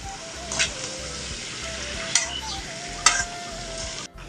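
Pork dry fry sizzles steadily in a wok while a spatula scrapes and stirs it in a few distinct sharp strokes, close and fairly quiet.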